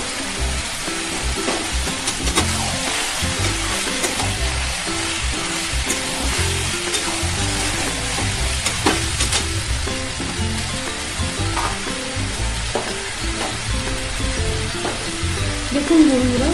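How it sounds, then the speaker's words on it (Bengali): Previously fried shrimp tossed into a pan with green jackfruit sizzle steadily and loudly for the whole stretch, with occasional stirring scrapes and no voices. "এরপরে আমি এর মধ্যে ভেজে রাখা চিংড়ি মাছটা দিয়ে দিচ্ছি"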